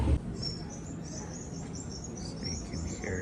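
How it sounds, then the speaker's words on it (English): Recorded bird calls play from a museum exhibit speaker: faint, high chirps and short whistled notes come in scattered bursts over a quiet indoor room hum, with no talk. "So you can hear different bird sounds."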